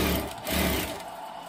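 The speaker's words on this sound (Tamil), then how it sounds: "கீழே வந்து டவர்ல வர இன்னொரு தையல் போடுறோம்" A sewing machine runs through a zigzag-free seam on a 30-inch full umbrella, a steady mechanical whir close by, swelling and easing over a short burst.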